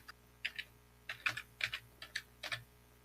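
Typing on a computer keyboard while entering commands in a Debian terminal: a steady run of soft, close key clicks in small clusters, fairly quiet, with no voice.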